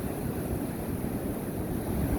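Steady low roar and wash of ocean surf at a beach, continuous and fairly loud, mixed with wind rumble, no voices.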